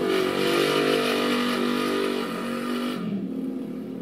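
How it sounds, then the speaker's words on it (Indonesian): Motorcycle engine revving nearby at night around 10 pm, a loud sustained roar that holds steady then drops off sharply as the throttle is released. "aduh motor ini rek suaranya"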